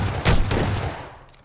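A shotgun blast in a first-person shooter match on a docks map, a loud booming report followed by a second crack and a fading tail, close and with no talk over it.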